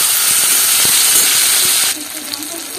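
Taro stolons (kochur loti) frying with spices as a little water is added: a loud, broad steamy hiss for about two seconds, then an abrupt drop to a quieter simmering sizzle.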